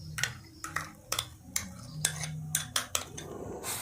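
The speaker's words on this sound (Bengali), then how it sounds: "এইগুলো আমি ভালোভাবে মিশিয়ে নিচ্ছি। তালের সাথে চিনিটা ভালোভাবে মিশিয়ে নিয়েছি।" A spoon clinks and scrapes against a bowl while palm fruit pulp is mixed with sugar, a little salt and palm juice for taler bora batter, giving about a dozen sharp, irregular taps up close with no talking.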